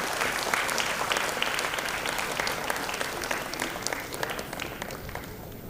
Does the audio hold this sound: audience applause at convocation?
yes